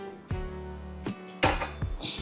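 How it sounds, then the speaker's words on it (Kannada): A metal cooking pot set down on a kitchen surface, giving several sharp clanks and knocks close by over a steady tonal background. "ಇನ್ನೊಂದು ಪಾತ್ರೆ ಇಡ್ತೀನಿ"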